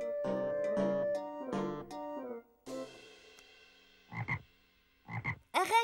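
Several loud, low croaks, first in a drawn-out rhythmic run, then short separate bursts after a pause; no talking.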